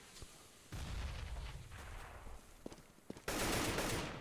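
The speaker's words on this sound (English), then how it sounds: "There's the AK headshot from Uzi, though." Rapid AK rifle gunfire in a competitive first-person shooter match, bursts of shots popping against background game noise, ending in a loud sustained burst.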